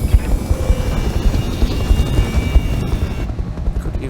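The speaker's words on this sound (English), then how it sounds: "We should shoot down the helicopter." A helicopter in the Roguetech/Battletech video game whirs with rapid, rhythmic rotor thumps and a buzzing engine drone, loud and close throughout without speech.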